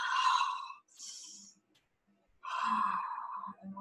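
Slow, deep breaths during a yoga heart-opening session, two soft breathy swells with a short quiet gap between them, close and fairly faint.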